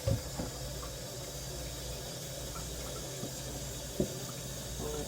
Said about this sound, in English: I'm gonna pour all of the water out of this.